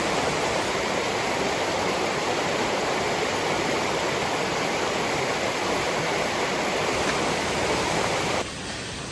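The Bear River in Petoskey, Michigan rushes steadily and loudly, a dense, unbroken wash of flowing water that barely changes over the whole stretch, with no voices.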